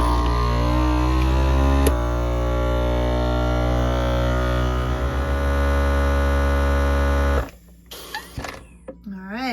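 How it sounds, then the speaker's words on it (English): A vacuum sealer with a jar-sealer attachment pumps air out of a jar of fresh produce, giving a loud, steady electric motor hum for several seconds that cuts off abruptly, followed by a few quiet clicks and handling noises. "Then turn on your vacuum sealer."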